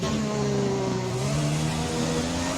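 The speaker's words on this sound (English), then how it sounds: "Just listen to this engine." A Formula 1 car engine in the F1 2020 video game, racing at the Australian Grand Prix: a continuous, close, buzzing engine note whose pitch rises and falls slightly as it revs, with no voices.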